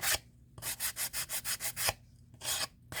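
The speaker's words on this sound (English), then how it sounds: "I'm sanding." Rhythmic hand sanding of air-dry clay, a run of about ten quick scraping strokes in a steady back-and-forth rhythm, close up, with a few separate rubs before and after.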